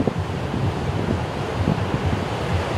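Wind blows across the beach at the north tip of Étang-Salé at dusk, a steady broadband rush with low gusty buffeting on the microphone and no voices.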